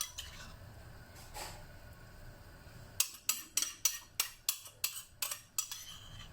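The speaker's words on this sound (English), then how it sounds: "Okay, give it a good stir so I don't waste." A spoon stirring seasoning into homemade army stew in a pot, quiet at first, then a run of about nine sharp, evenly spaced clinks and scrapes against the pot.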